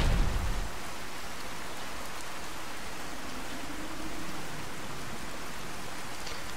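Steady rain with a brief low thunder rumble at the start, from the Fallout 4 video game with weather mods; broadband hiss continues evenly throughout, with no talk.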